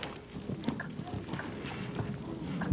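A horse's hooves clip-clop at an equestrian vaulting club, faint, irregular steps heard at moderate distance under a low background of voices.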